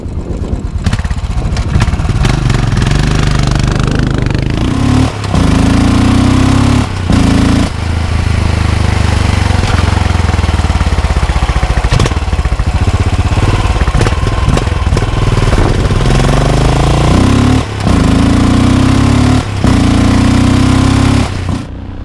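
A Royal Enfield Continental GT 535 single-cylinder motorcycle engine runs loud and close, a steady throbbing idle with repeated blips of revving and brief cuts in between.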